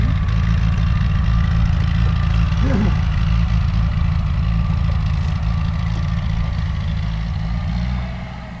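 A Ford 8N tractor engine runs at a steady idle, a loud close low chugging throb that fades slightly at the end, with a faint voice briefly audible underneath.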